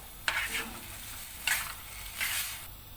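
Spinach stems sauté in a pot for Adana-style spinach soup, with several short bursts of sizzling and stirring rising and fading, fairly close, no voices.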